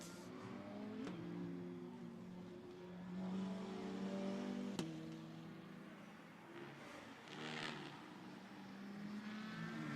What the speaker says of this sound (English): Way out wide there over the curb goes the Mercedes